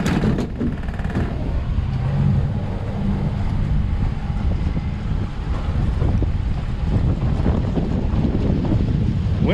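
Strong wind blowing outdoors at a remote roof site, heard as loud, continuous buffeting rumble against the microphone with gusty surges, with no talking.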